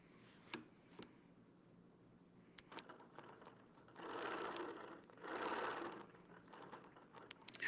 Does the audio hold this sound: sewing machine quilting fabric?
yes